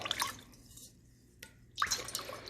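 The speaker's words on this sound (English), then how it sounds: "just put your hand in and just kind of move it around a little bit and get it so the sugar dissolves in the water" A hand swishes through water in a bowl to dissolve sugar for pizza dough, giving close, soft sloshing and dripping in two short bursts with a quiet pause between.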